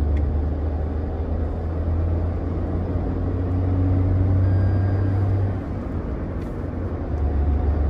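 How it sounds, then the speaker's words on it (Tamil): A Tata Punch engine pulls in third gear, heard as a steady, loud low rumble and road drone from inside the cabin, continuous throughout with no talking. "நான் 60 கம்மி பண்ணிட்டு 3rd கியர்ல இருக்கு. புல் பண்ணலாம் பாருங்க."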